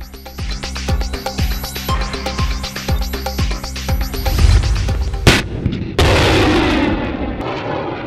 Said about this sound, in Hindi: जमीन से फजा में मार करने वाले मिसाइल फायर करने का कामयाब मुजाहरा।